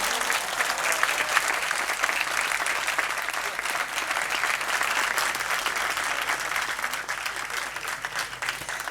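A congregation claps at a Thanksgiving First Holy Mass in a church, dense sustained applause filling the whole stretch at steady loudness with no talk over it.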